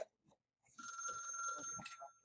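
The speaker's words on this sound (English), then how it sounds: "I'm going to grab that phone." A telephone rings in a quiet room during a math lesson, a faint electronic trill sustained for about a second and a half after a few soft knocks.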